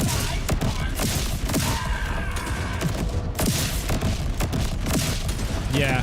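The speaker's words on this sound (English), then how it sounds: "The crit was proccing booming business, which was launching a grenade doing the incendiary damage." Booming Business grenades exploding in the Borderlands 4 video game, a dense loud barrage of booms and gunfire thuds in rapid overlapping succession, continuous throughout.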